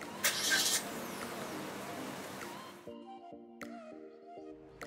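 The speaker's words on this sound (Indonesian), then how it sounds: "menyalakan mobil dengan menekan pedal rem dan menekan tombol engine start-stop" Suzuki Ertiga Smart Hybrid starting from its push-button start-stop: a steady engine hum settles after a few seconds, then gives way to a quiet chime-like electronic tones with faint clicks, close and alone.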